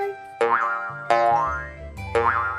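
A cartoon boing for a bouncing ball springs out three times, each a bright wobbling twang that bends in pitch, loud over light music.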